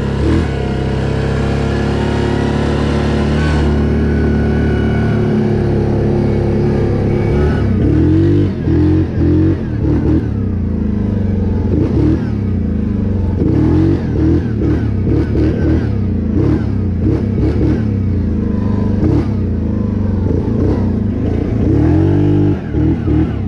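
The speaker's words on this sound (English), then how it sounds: "So we're gonna try to see if we can go up this hill in two-wheel drive." Yamaha Grizzly ATV engine climbing a hill in two-wheel drive, a loud, close, steady mid-pitched drone with rising and falling revs throughout.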